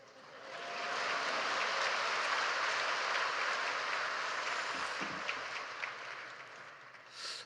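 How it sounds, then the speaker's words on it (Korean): A church congregation gives a long, even round of applause to welcome a missionary, swelling in at the start and holding steady, heard at a distance and fairly soft. "이제 선교사님 나오실 때 환영하는 마음으로 큰 박수로 맞이해 주시기 바랍니다."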